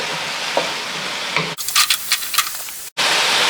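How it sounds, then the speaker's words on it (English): Apples being stirred in a pan as they soften, a steady frying sizzle with scraping strokes of the spoon that break off briefly before the hiss resumes. "Just keep on stirring so you don't burn one side."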